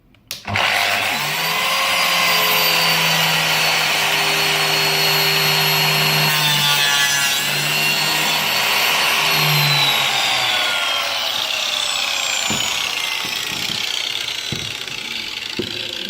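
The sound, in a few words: Lamello biscuit joiner cutting a slot in wood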